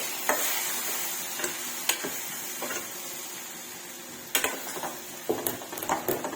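Okra curry is stirred in a pan: a gentle, constant sizzle with a spoon clicking and scraping against the metal in irregular bursts, growing busier toward the end.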